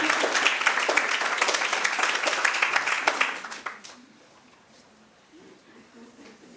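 An audience at an anniversary symposium on Iceland's cancer registry gives a round of applause for Þórunn Rafnar, dense clapping for about three seconds that quickly fades to quiet room noise.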